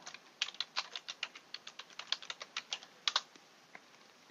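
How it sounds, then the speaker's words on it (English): A computer keyboard is tapped in a quick, uneven run of crisp individual keystrokes as a password is entered, close and quiet with no voices. "my password I'll type in"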